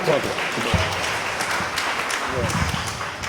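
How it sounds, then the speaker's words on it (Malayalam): A congregation at a prayer service claps loudly together, a dense, steady wash of hands that runs the whole length, with a few voices calling out over it. "ഒന്ന് ഉറക്കെ കൈയടിച്ചേ"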